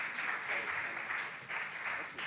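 Faint, steady applause for student contestants at a regional junior science and maths quiz, a soft continuous patter of many hands heard from a distance.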